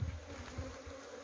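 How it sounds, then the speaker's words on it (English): A low, dense buzzing of many African killer bees from an opened hive drones steadily and close for a brief moment, with no voices. "these are the African killer bees"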